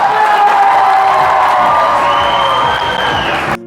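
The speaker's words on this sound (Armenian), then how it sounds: "քանի որ հենդոյի կողմի ծափերը ինձ դուր եկավ" The groom's side of a wedding crowd claps, whoops and cheers in a loud, dense roar with shouting and music running underneath, then it cuts off abruptly near the end.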